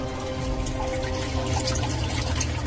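Water pouring steadily into a sump pit after a sump pump installation, a continuous close rushing trickle with no talk.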